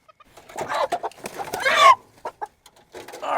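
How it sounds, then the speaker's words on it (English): A rooster clucks close by while laying hens are being handled, giving a series of short, uneven clucks and squawks with quiet gaps between them. "All right, I got the rooster."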